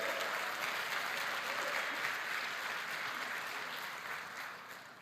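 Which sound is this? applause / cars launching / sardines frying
applause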